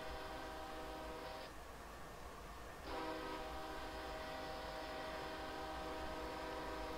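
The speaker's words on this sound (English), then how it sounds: "There's a train coming, Fred!" Approaching train in a train simulator game set on a Canadian mountain pass: a sustained, droning horn that sounds, breaks off briefly, then resumes over a steady low rumble of running rails.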